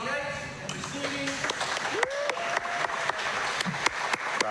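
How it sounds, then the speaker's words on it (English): A crowd at an indoor pickleball invitational match claps and cheers, with applause running steadily throughout and close voices calling out over it. "Crowd goes wild, a big chant"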